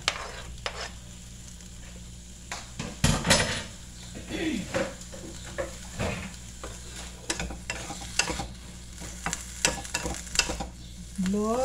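Ginger, lemongrass, onion and tomato stir-fried in a pan, with a steady sizzle under repeated scraping and clattering of a utensil against the pan, loud close knocks coming in irregular bursts.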